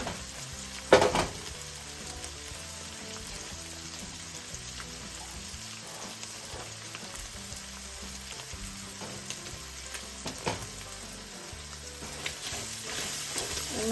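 Scrambled egg cooking in a pan for Thai beef fried rice, a continuous crackling sizzle close by with a sharp utensil clink near the start and light scrapes later, no talk.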